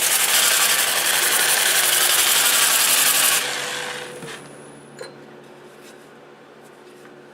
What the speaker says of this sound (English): So I'm going to go ahead and sand this side.